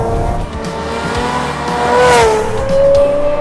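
A 650bhp V12 Jaguar XJS-based TWR Supercat engine roars loudly and continuously on the road, its pitch rising and falling as it revs hard, with a whine climbing near the end.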